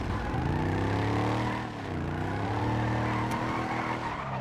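A Volvo 242 in GTA 5 roars at steady high revs, with tire squeal and skidding over a continuous engine drone and a brief dip as it slides, and no talk.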